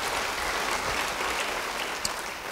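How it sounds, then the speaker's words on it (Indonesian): A church congregation claps together in dense, sustained applause that fills the room evenly from start to finish, one brief sharper clap standing out near the end. "Yang percaya beri tepuk tangan bagi dia."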